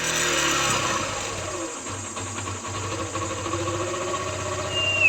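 A motorcycle engine idles with the choke held, a steady mid-pitched running drone with slight fluctuations that stays fairly loud throughout. A brief high tone sounds near the end.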